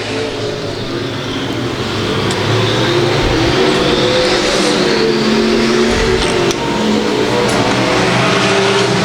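Race cars roar past on a dirt track during an open-night A-main, engines loud and continuous with revving and some tire noise throughout, no talk.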